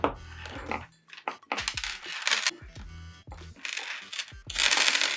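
Malachite gemstone chips clatter and click as they are pulled off a snipped strand, several bursts of small hard stone clinks in quick succession, close up with no talking.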